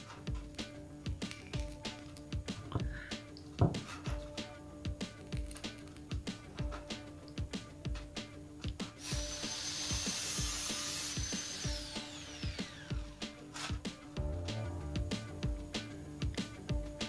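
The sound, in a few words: cutting a hollow light steel ceiling frame or PVC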